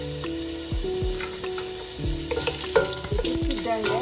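Butter sizzling in olive oil in a pan, a close, steady crackle with a few utensil taps, under faint background music.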